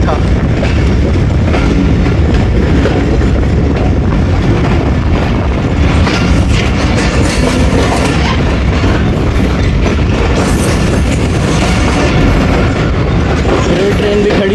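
A passenger train, the Fareed Express or Tezgam, runs on rails near Kotri Junction, with a loud continuous rumble and rattling wheel clatter heard from aboard, a voice faintly present under the noise.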